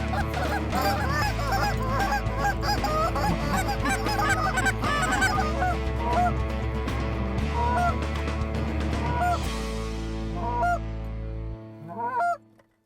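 Wild geese honk loudly and continuously on a hunt, layered with imitative goose calls blown by hunters, the chorus sustained and dense before a sudden drop near the end, followed by a few sharp honks.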